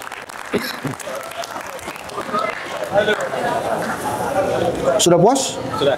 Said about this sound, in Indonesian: kita kasih tepuk tangan semangat buat Mas Putra